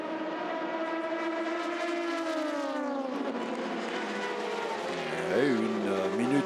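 A Toyota prototype race car driven by Kamui Kobayashi at the 24 Hours of Le Mans pulls away, its engine note rising steadily and loud, then dropping and shifting as it moves off, with a continuous whine throughout.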